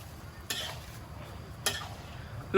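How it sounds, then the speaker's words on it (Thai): Chicken curry for khanom jeen is stirred in a large pan over heat. A spoon scrapes the pan in two distinct strokes, spaced about a second apart, against a quiet background. "แกงกระทะใหญ่ ๆ แบบนี้ก็จะทำยากนิดนึงครับ"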